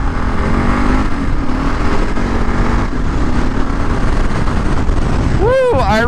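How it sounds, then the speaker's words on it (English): Kawasaki Gen3 KLR 650 motorcycle with a Lexx exhaust, ridden on a 24°F day: a steady engine drone under heavy, constant wind roar, ending with a brief rising vocal whoop. "what a beautiful day for a ride on the Gen3 KLR 650"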